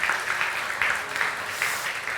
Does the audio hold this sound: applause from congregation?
yes